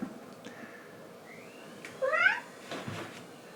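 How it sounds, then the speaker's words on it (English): A house cat meows once in a rising, drawn-out call at close range inside a room where a leather bag is being hand-stitched, followed by a soft rustle over quiet background hiss. "That was my cat."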